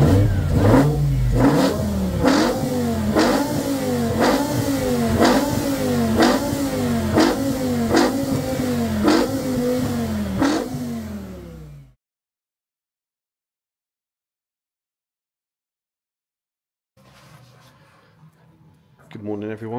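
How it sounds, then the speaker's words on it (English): An Aston Martin Vantage engine revs repeatedly in quick rhythmic bursts, each rising and falling with a loud intake roar, then cuts to silence before faint sound returns. "it's loud because of the exhaust, but that intake roar is insane"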